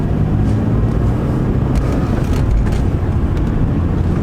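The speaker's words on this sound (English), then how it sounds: "let's go for a quick drive in it and see how she pulls" A 25-year-old imported Mk4 Toyota Supra drives and pulls hard, its engine and road roar forming a loud, steady, close drone with no letup.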